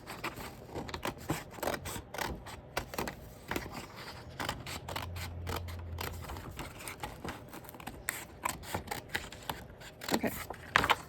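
Scissors snipping through a paper piece for a December Daily scrapbook page, a long run of quick, close, crisp cuts in irregular bursts with no talk.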